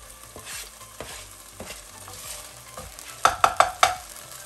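Garlic, chili and ginger stir-fry in a pan with a soft, steady sizzle. Scraping stir strokes recur throughout, and four sharp, louder clanks come in quick succession near the end.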